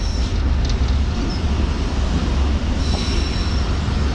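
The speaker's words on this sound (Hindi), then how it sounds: "PLC पास कर रही है ट्रेन यहाँ से भी।" A train passes on a Pakistan Railways line with a loud, continuous close rumble of wheels on track and thin metallic squeals rising over it now and then; nobody speaks.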